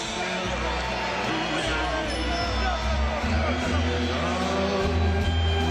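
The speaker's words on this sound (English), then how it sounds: "Listen to that crowd welcoming in one of their own." A boxing arena crowd roars continuously as a heavyweight fighter makes his walk-in, a dense, loud wash of cheering and crowd noise sustained through the whole stretch.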